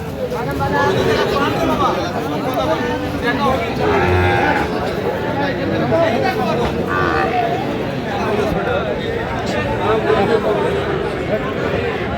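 Sahiwal bull calves and other cattle mooing at a busy cattle market, with loud bellows rising over a constant hubbub of traders and buyers talking nearby.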